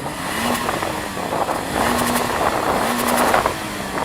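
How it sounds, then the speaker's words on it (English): A Toyota four-cylinder boxer engine revs repeatedly nearby, rising and falling in a steady rhythm with a rough, buzzy tone. "the 4-cylinder boxer engines sound the same"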